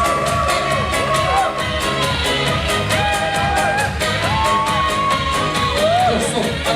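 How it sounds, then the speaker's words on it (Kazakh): Wedding guests clapping in a steady, rhythmic beat over loud music, with scattered crowd whoops rising in the mix, continuous and close. "Ал, бір қол соғып қояйық."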